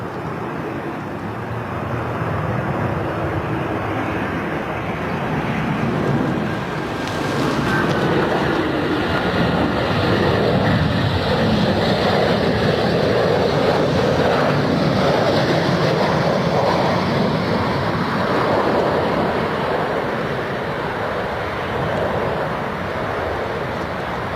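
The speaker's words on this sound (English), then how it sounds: "The wind is very strong all of a sudden." Strong gusting wind roars at an airport, a loud continuous broadband rush that swells and holds steady throughout with no voices.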